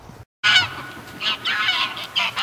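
Several geese honk loudly and repeatedly in an agitated alarm chorus, close by, after a brief silent gap at the start, reacting to a hawk.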